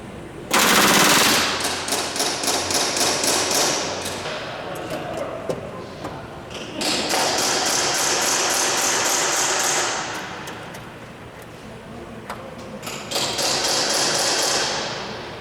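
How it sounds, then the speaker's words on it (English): Pneumatic rivet gun hammering the skin of the number 3 fuel tank bay cover on a Lancaster bomber under restoration, in loud rapid bursts of several seconds each, separated by short pauses, ringing in a workshop. "started riveting together the number 3 fuel tank bay cover"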